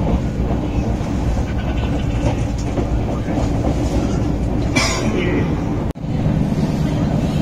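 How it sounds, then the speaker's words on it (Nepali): A train rolls through Abhaypuri railway station, its wagons rumbling and clattering loudly and continuously close by, with a brief sharp break near the end and voices faintly beneath. "यसरी गाडीहरू यसरी रोक्ने छ कि रेल आउँदाखेरि"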